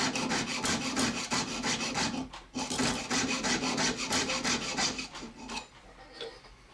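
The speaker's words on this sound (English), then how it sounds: "Let the weight of the saw on the blade cut through the silver" A jeweler's saw cuts through sterling silver for a turquoise ring in steady, rhythmic rasping strokes, close and loud, with one brief pause partway before the sawing resumes and slows toward the end.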